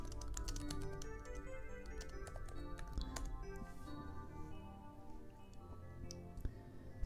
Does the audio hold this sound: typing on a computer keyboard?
yes